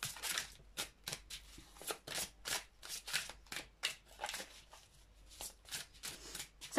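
Tarot cards being shuffled by hand close up, a steady run of soft riffling, flapping bursts in an irregular rhythm, with no talking.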